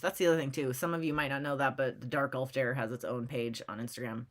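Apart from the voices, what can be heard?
None of the usual background noises is heard.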